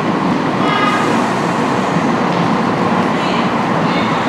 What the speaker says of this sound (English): In comes the arrival from Cardiff Central, Turbo Star service,